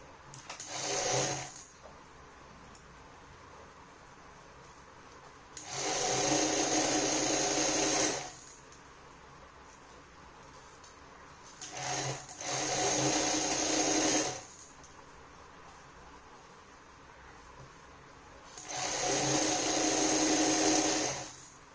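A sewing machine stitches a handle for an upcycled craft piece in three separate bursts of whirring, each lasting a couple of seconds and separated by quiet pauses, with no talk.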